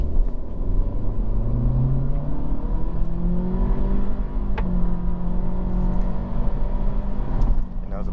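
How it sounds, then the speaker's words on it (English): A 2023 Acura Integra A Spec, about 200 horsepower, in sport mode at full throttle: a steady engine drone that rises in pitch through the gears inside the cabin, with brief dips at shifts and road rumble underneath. "we're just going to floor it"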